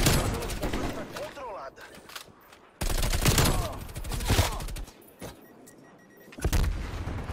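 Bursts of rapid gunfire from the Bullfrog, a weapon in a first-person shooter video game, crackle in clusters separated by brief lulls, with a voice talking over parts of the exchange.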